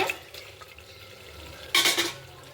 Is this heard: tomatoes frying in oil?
yes